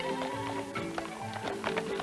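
A donkey clip-clops along a backcountry road, its hooves making a steady, unhurried rhythm of taps over a dense, busy background sound.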